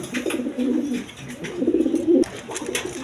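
Caged pigeons give a few close, low, throaty coos, one stretched rolling call after another, with light rustling and clicks around them.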